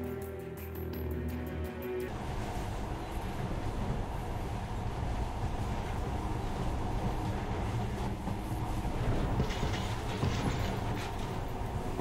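A monorail train rides along in Metro Last Light Redux, with a steady loud rumble and rolling rail noise that shifts character after a couple of seconds and continues unbroken.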